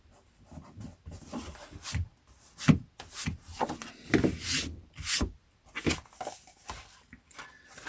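A rubber eraser scrubs out a small pencilled price inside a book, giving soft, close, irregular rubbing strokes in short bursts with brief pauses between them.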